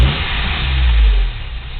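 The 22RE engine of a 1987 Toyota 4Runner with a suspected misfire revs up close and loud, then its RPM falls back toward idle with a low, throbbing rumble.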